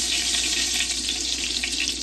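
Drops of water hitting hot frying oil, a dense, loud crackling sizzle that spits continuously and evenly for a couple of seconds, close up and with no talking.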